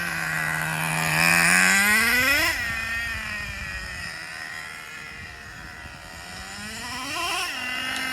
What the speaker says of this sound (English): So yeah, you can tell this engine really wants to run at high RPMs.